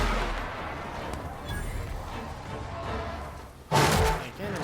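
Heavy cannon blasts in the sci-fi shooter game The Outer Worlds, a dull low thud early on and a sharp loud boom near the end over a rumbling battle background.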